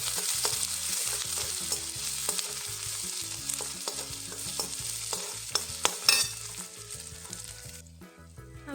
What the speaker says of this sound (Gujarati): તેમાં થોડું જીરું એડ કરી દઈશું. ચપટી હિંગ એડ કરી દઈશું. આદુ મરચાં લસણની પેસ્ટ એડ કરી દઈશું એમાં.